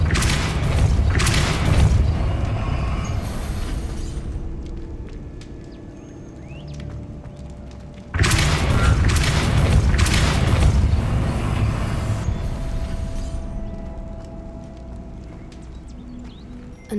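A Depulso spell cast in Hogwarts Legacy lands as a loud, heavy booming blast that decays slowly, followed by a second equally strong boom about eight seconds later, each trailing into rumbling debris and mechanical clatter.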